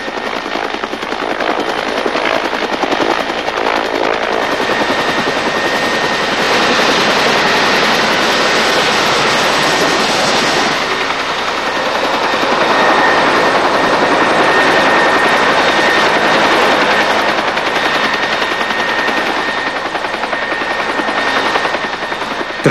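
A helicopter landing in the Peruvian jungle, its rotor and engine thundering loudly and steadily, a dense whirring roar with a pulsing chop that swells slightly, no voices.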